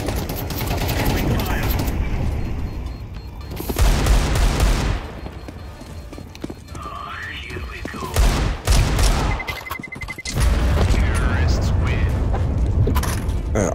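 Explosions and gunfire-like booms from a Minecraft-style block game on a server, with heavy bursts around the middle and end of the clip, mixed with game effects and a person talking over it.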